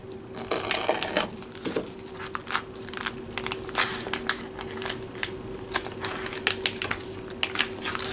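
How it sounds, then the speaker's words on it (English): A plastic package of fried tofu is torn and pulled open, giving a series of close, sharp crinkling and snapping bursts over a faint steady hum, with no talking. "So here's my fried tofu, and I'm going to open up the package."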